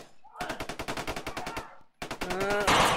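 Rapid bursts of gunfire crack in a fast, steady string, pause briefly, then resume amid louder, denser noise.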